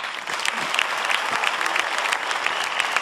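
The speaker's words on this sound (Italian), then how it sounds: "Grazie, applauso." A studio audience at an Italian television variety show applauds loudly and steadily, a dense, even wash of clapping that runs for about three seconds with no voices over it.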